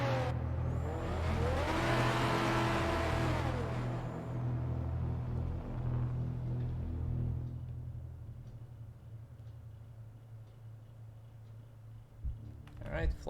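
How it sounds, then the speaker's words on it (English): Car engine in the racing game Night Runners Prologue, held on the clutch and revved out at a race start: a loud sustained rev with a whining tone fades into a lower idling rumble, with voices talking underneath. "Hold the clutch, rev it out."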